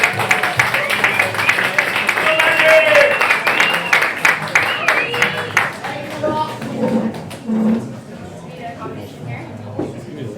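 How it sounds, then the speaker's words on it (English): An audience at a live debate event applauds for a speaker named Maggie, with clapping and cheering that rise loudly, then thin into scattered claps and murmurs as the room settles. "Round of applause for Maggie"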